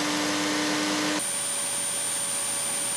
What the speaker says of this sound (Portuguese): Um aspirador de pó é bem ruinzinho, faz muito barulho.